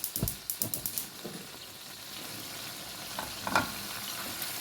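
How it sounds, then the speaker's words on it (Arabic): Meat sautéing in a frying pan for beef piccata with garlic, opening with a rapid series of sharp crackling bursts, then settling into a steady close sizzle with occasional spits. "هنشوحهم مع بعض"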